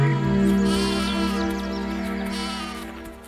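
Sheep bleat loudly and close in an animated cartoon, a sustained wavering bleat carried over a background music bed with no talking.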